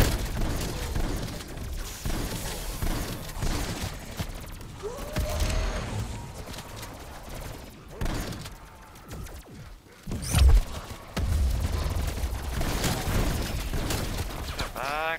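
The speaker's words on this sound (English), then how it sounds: "this is the wonder weapon. This is what the alternate fire looks like." A wonder weapon's alternate fire in Call of Duty Black Ops Cold War Zombies, heard as loud bursts, booms and mechanical whirring amid dense, continuous in-game combat noise with a sharp blast near the end.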